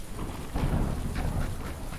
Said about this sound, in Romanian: Mamă, ce ploaie, frate